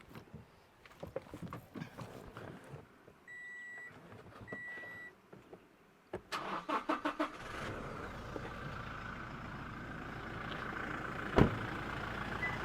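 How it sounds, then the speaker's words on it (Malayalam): A Toyota Innova Crysta engine, single-owner car, settles into a steady idle hum after a few clicks and a short run of electronic beeps, with one sharp knock near the end. "അപ്പോൾ ഇത് എൻജിൻ്റെ സൗണ്ടാണ് നിങ്ങൾക്ക്,"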